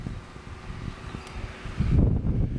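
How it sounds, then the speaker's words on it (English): Wind gusting outdoors on a city street, rumbling and buffeting a microphone, then surging into a heavier, louder blast toward the end. "It's getting kind of windy. It's windy, man."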